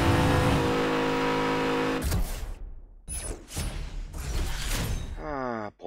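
A race car in Need for Speed Hot Pursuit Remastered accelerates with a loud, sustained engine drone, then breaks into choppy bursts of revving and mechanical clatter, ending in a rising whine.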